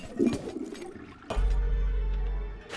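A toilet flush in the horror video game Dark House: a sudden rush of water starts after a few small clinks and holds a loud, steady roar for over a second before fading.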